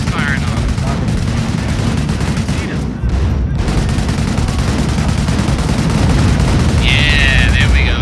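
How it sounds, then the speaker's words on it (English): Artillery fire from 25-pounder guns in the Company of Heroes: Opposing Fronts British campaign, heavy booming blasts over dense, continuous battle noise, loud and sustained throughout. "Gunfire."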